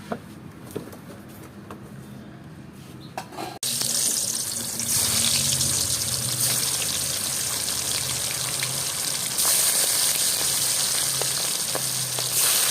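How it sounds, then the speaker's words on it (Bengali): Pangas fish drops into hot oil in a pan and sizzles loudly and steadily after a quieter start, a close, dense frying hiss that continues without pause. "দেখো এবার আমি মাছটা ভাজতে দিয়ে দেবো।"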